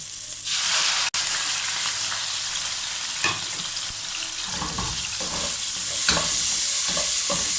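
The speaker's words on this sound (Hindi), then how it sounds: "अब हम इसमें चिकन डालेंगे जो मैरिनेट किया हुआ था, और उसे अच्छे से फ्राई कर लेंगे" Marinated chicken dropped into hot oil fries with a loud, steady sizzle, a sharp clack near the start and stirring scrapes building toward the end, no voices.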